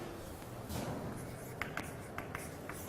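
Chalk or marker strokes on a board during a math lesson on inverse functions, a few short scratchy taps and squeaks in quick succession, fairly quiet and close, with no voice over them.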